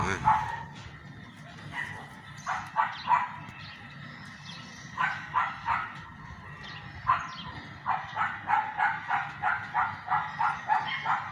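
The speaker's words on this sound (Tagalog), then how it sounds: "Ayan, may mga aso doon." Several dogs bark repeatedly at a moderate distance on a farm in Kuwait, in bursts that build into a rapid run of yips, with voices talking underneath.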